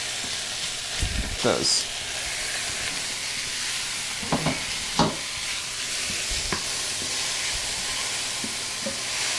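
Food fries in a hot pan while cooking vegan dishes, a steady broadband sizzle and hiss running throughout with a few louder bursts of crackle and stirring, and a brief spoken word near the start.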